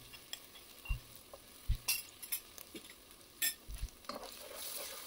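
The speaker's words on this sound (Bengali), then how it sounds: "আমার মশলা ভাজা হয়ে গিয়েছে, এখন এই যে পেস্টটা দিয়ে দিচ্ছি" Ground garam masala paste goes into frying spices. A low sizzle runs under repeated scraping stirring strokes and light metallic clinks of a spoon against the pan.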